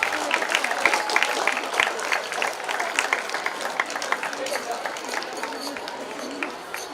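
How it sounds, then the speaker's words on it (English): A crowd at a school sports meet claps for the race and shot put winners, a continuous patter of hands with talk and chatter mixed through it. "Let's give the winners a huge round of applause."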